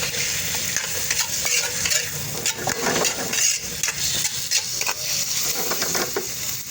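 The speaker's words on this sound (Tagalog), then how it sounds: "Lagyan lang natin ng mantika. Ilagay natin ang ating pusit." Squid sizzles in hot cooking oil in a pan while being stirred, a steady loud crackling fry with scraping and tapping throughout.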